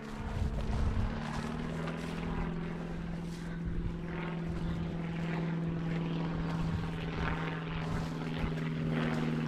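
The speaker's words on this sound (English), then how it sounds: "I can just constantly hear planes flying about over the top of our heads here." A steady propeller-driven engine drone hangs overhead throughout, a continuous low hum with a broad wash of rumble that never fades.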